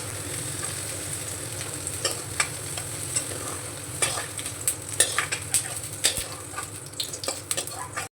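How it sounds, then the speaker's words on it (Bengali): Drumsticks (moringa pods) frying in oil in a pan, a continuous close sizzle with frequent scraping and stirring clicks from a utensil against the pan, growing busier toward the end, no talking. "সজনে ডাঁটাগুলোকে আমি হালকা করে ভেজে নিয়েছি।"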